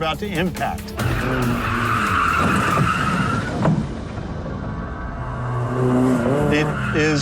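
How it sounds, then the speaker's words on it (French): A car skids and slides on a test track during a crash-avoidance driving test, with loud sustained tire squeal and engine noise, and someone speaks over it. "c'est bizarre de faire glisser sa voiture au moment même où on est face à un objet qu'on va percuter"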